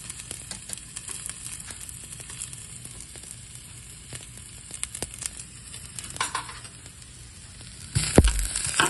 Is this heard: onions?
yes